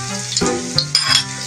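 Onions sizzling in a hot pan while a utensil stirs them, bright crackling frying broken by a few sharp metal scrapes and clinks, loud and close with no speech.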